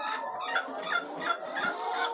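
Laying hens in a deep litter poultry house give repeated soft, throaty clucks, several birds overlapping close by in a steady, murmuring rhythm.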